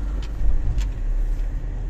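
A car rolls slowly onto the Lenfilm studio grounds at night in rain, a low steady rumble of engine and tyres with a couple of faint clicks, no talk.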